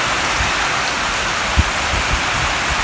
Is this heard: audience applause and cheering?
no